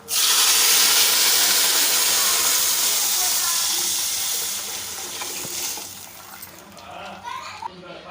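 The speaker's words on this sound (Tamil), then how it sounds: "ஏழரை டம்ளர் தண்ணியை ரெடியாக எடுத்து வச்சுருக்கோம் அதை வந்து நம்ம இதில் ஆட் பண்ணிடலாம்" Water from a tumbler measure poured into a pot while cooking rice upma, a loud steady rushing splash filling the first several seconds before easing into quieter sizzling and clatter.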